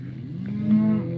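A cow gives a single loud, close moo lasting about a second, on a farm homeplace during fall corn chopping.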